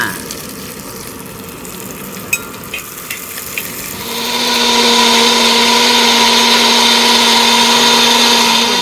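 A kitchen mixer grinder blends roasted masala for a yam flower curry. After a few light clatters, the motor kicks in with a loud, steady, high whirring whine that holds to the end.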